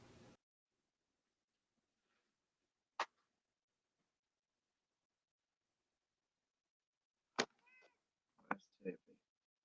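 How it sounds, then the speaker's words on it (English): A cat meows a few short times, faint and close in a quiet room, after an isolated click. "On the floor, meowing at you."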